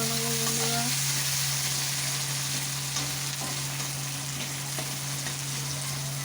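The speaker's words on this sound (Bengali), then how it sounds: "শাক ভাজাতে দিয়ে দিলাম, শাক ভাজার মধ্যে দিয়ে দিলাম পেঁয়াজ দিলাম" Leafy greens with onion fry in oil with a constant, close sizzling crackle and occasional stirring knocks, over a steady low hum.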